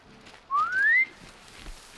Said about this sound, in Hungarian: Jaj, de jó ez a fütyülés.